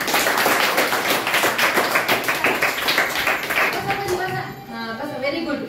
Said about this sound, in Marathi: व्हेरी गुड, टाळ्या.